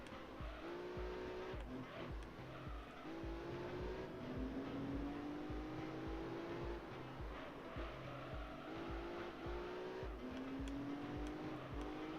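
Racing car in a video game on medium-compound tires, the engine revving and shifting while the tires squeal in repeated rising whines through corners, loud and continuous with no talk.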